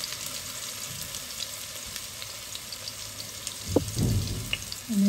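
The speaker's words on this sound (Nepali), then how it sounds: "त्यसपछि मैले ओखरमा कुटेको अदुवा लसुन राख्दैछु" Crushed ginger and garlic, pounded in a mortar, frying in hot oil: a steady soft sizzle that swells louder near the end with a few stirring scrapes.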